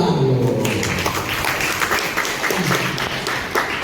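Audience at a school seminar applauding, a dense burst of clapping that fills the room and gradually thins out, with a voice briefly heard over it.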